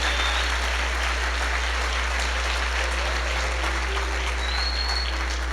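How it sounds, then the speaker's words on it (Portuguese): A church congregation applauds for Jesus, steady, dense clapping filling the room at full volume from start to finish with no pause. "eu quero que você dê um aplauso a Jesus"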